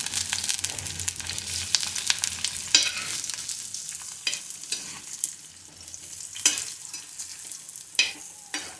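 A home vegetable dish sizzles and fries in a pan while being stirred, with a continuous crackling hiss and occasional louder scrapes and clicks from the spatula, and no talking.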